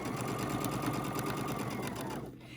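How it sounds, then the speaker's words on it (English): A sewing machine runs in a fast, even whir while stitching a curved 3/8 inch seam on a fabric face mask, then stops abruptly near the end. "I'm going to sew a 3/8 inch seam as I come around following that curve."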